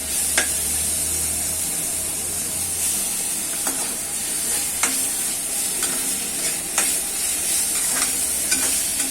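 Ginger garlic paste frying in oil in a pan for potato manchurian, with a steady close sizzle broken by a series of sharp scraping stirs and spoon taps, and no voices.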